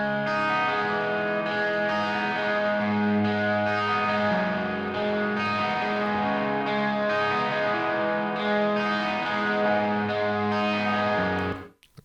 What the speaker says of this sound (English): let's listen to the guitars with just the ambient, no filtering